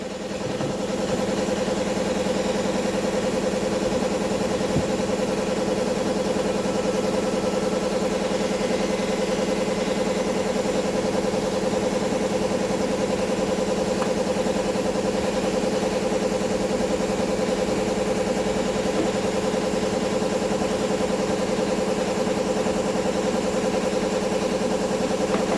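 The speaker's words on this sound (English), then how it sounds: "Forgive the air compressor." An air compressor drones steadily in a workshop, a constant mechanical hum that never lets up over the whole stretch and sits fairly close.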